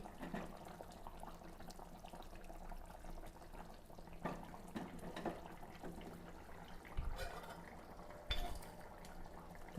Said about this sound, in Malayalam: നമുക്കൊന്ന് ചട്ടിയൊന്ന് ചുറ്റിച്ച് കൊടുക്കാം